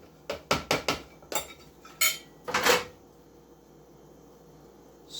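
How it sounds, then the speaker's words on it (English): A fork clinks and scrapes quickly against a container while mixing ingredients, a burst of about eight sharp taps and scrapes at close range, then near silence. "I'm going to take my fork and I'm going to mix that all up real quick in my container"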